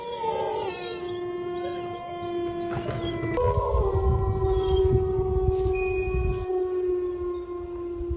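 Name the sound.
wolves howling in the forest at night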